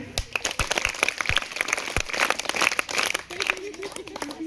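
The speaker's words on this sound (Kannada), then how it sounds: "ಎಲ್ಲರೂ ಚಪ್ಪಾಳೆ ಹಾಕಿ." Schoolchildren at an eco club event in a village school clap together: a dense, rapid patter of many hands, fairly close and steady, with a voice speaking over it.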